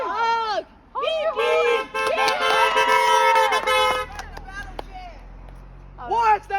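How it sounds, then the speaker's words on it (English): A car horn, sounded as a prank, gives several bursts of honking, loud and close, in a busy stretch of talking and shouting voices. "Honk your horn."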